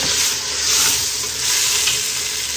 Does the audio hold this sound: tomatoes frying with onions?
yes